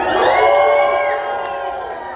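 A crowd in a cruise ship atrium on the Disney Magic cheers and screams, with high shrieks and whoops from children and adults in a loud, dense burst that eases slightly at the end.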